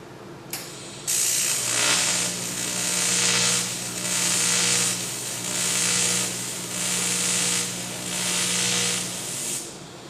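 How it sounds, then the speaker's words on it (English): Welding steel template pieces for a hand-built 1929 Ford Model A car window frame: a loud, steady crackling hiss that holds for several seconds at a time with slight pulsing, starting abruptly after a brief click. "Here I finished welding the three pieces."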